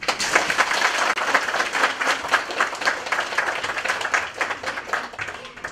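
An audience at a kindergarten graduation party claps steadily together, dense applause filling the room at an even level throughout with no pause.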